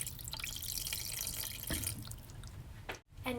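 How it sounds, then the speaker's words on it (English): Water poured into a pot of homemade chili soup being cooked in a home kitchen, a steady close splashing and trickling stream that briefly stops near the end and then resumes. "Lastly, adding some water."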